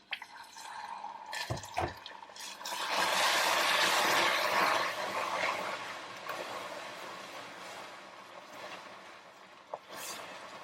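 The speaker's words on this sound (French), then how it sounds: "Je vais ajouter petit à petit la crème fraîche et je vais bien mélanger" Crème fraîche is poured into hot melted sugar for caramel, setting off a sudden loud hissing bubble that fades into a lower, steady simmer, with a few clinks of utensils before and after.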